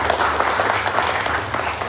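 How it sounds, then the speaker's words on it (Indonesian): An audience at a seminar applauds, a dense, loud wash of many hands clapping that fills the whole stretch without pause. "tepuk tangan buat Pak Asep Jamaludin"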